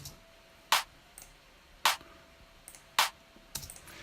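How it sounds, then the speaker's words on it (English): Four sharp, dry electronic clap hits ring out alone, spaced roughly a second apart, each short and crisp. "The clap sounds like this"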